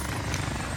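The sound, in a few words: supply helicopter in Call of Duty video game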